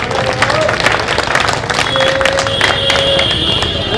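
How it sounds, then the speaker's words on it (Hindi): Crowd at a political election rally in Delhi breaking into applause, a continuous mass of clapping with some cheering and crowd noise, fairly loud throughout with a faint high tone running through. "अनिल भाई के लिए भी एक बार ताली तो बनती है भाई"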